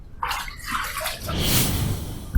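Water splashes and gurgles briefly in a bathroom sink as a shaving razor is rinsed under the tap, with a final small knock at the end.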